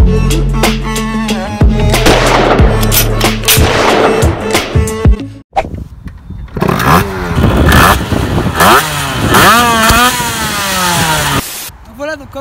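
A Derby 50cc motorbike fitted with an 80cc high-performance kit revs hard and loud up close, in rising and falling bursts of engine howl with a brief gap midway, alongside background music.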